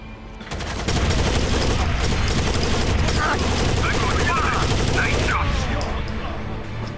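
Light machine gun fire in a first-person shooter video game, a loud sustained rattle of rapid shots over several seconds, close and continuous with dense repeated reports.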